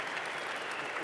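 Audience applause at an opening ceremony rolls on as a dense, continuous wash of clapping at steady loudness throughout, with no voices over it.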